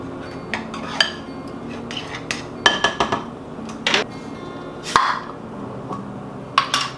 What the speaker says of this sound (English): Then I'm going to just kind of stir that in a little bit.